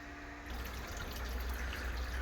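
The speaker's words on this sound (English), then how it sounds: "All the water's been delivered." Water runs steadily into a mash tun packed with about 22 pounds of grain for a scotch ale brew, a continuous close trickle and gush with no talking.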